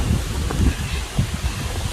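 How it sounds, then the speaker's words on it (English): Gusty wind blowing outdoors on the Appalachian Trail, a continuous rough rumble with brief stronger buffets against the microphone. "the wind is picking up again"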